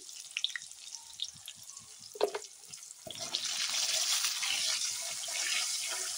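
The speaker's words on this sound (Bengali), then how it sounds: "দেখো ভাজা হচ্ছে। দেখো আলুটা তো ভালো করে ভাজা হয়ে গেছে।" Potatoes fry in oil with cumin and turmeric. Scattered clinks and drips come first, then a dense, steady sizzle rises and holds close and fairly loud.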